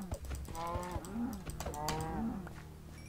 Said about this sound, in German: Boah, wow, Kühe hier, ohne Ende Kühe.